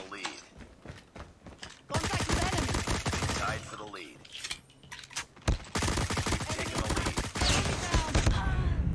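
Rapid bursts of gunfire in Call of Duty: Mobile, dense and crackling, in several volleys with brief pauses between them.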